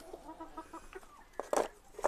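Hens on a small farm cluck softly in short, scattered calls, with a louder burst of clucking near the end, at moderate distance.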